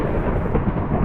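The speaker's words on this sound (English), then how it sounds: "That lightning strike is good news to me" Thunder from a lightning strike in Minecraft, a deep, loud rumbling roll that fills the moment without pause, with no voices over it.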